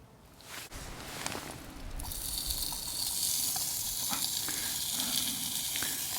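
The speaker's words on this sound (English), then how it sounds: "I'm going to get the frying pan on." Precooked teriyaki beef sizzles in a frying pan on a Lixada portable stove, a faint start swelling after a couple of seconds into a steady, close hiss of frying with small crackles.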